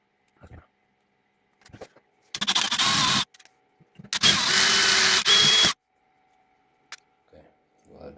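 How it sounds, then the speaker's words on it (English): Power drill boring out the small ball bearing from a metal swivel clip, heard as two loud whirring bursts of a few seconds each, with brief faint clicks and handling noises around them. "that drilled out"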